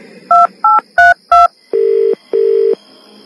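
A telephone keypad is dialed with four quick tone beeps, followed by two longer steady tones, clear and close with no talk.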